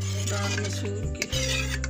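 Masoor dal being served out with a spoon, metal scraping and clinking against a pot over a steady low hum, with a brief pause midway.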